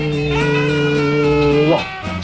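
A reversed tape note with the decay coming first, swelling into a wah-like sound, with steady sustained tones that bend and end abruptly near the close, heard alone.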